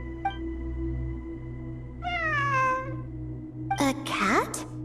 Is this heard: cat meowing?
yes